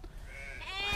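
A Garole sheep bleats once on a farm, a fairly faint drawn-out cry that swells toward the end over low background noise.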